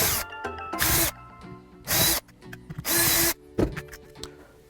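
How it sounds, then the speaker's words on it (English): A power drill bores into an audio cassette tape resting on a piece of wood, sounding in several loud bursts of whine and grinding separated by short pauses, close up with no talking. "See, I'm using a piece of wood, so I'm not drilling into my workbench."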